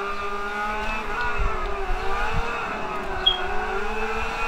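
Lamborghini Veneno engine in Forza Motorsport 5 drops from third to second gear, a steady near engine drone rising and falling in pitch, with a brief sharp chirp partway through.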